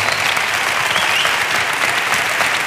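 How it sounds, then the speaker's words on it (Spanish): Repeated audience applause at an event with Carles Capdevila, a loud, sustained, dense roar of clapping from a large crowd, steady from start to finish. "me gustaría que repitiéramos el aplauso"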